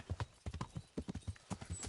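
Rapid, rhythmic clip-clop of horse hooves at a steady trot in the video game Kingdom Come, close and fairly quiet, with a faint voice underneath.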